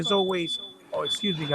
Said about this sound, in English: that's the alarm in my house